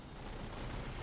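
Weapons fire in an Empire at War space battle: a dense, continuous barrage of blaster and rocket fire at a steady loud level, with no gaps and no voices.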